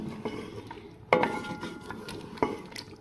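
Yogurt being stirred into chicken karahi in a metal pot: soft scraping with a few sharp spoon knocks against the pot's rim, close by, with no talk.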